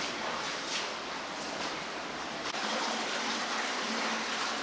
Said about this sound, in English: I'm having to wade or paddle through this pool of water